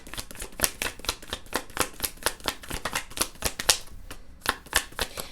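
Tarot cards being shuffled by hand, a quick run of crisp riffling flicks in steady bursts with a brief pause near the end, close and fairly loud with no talking.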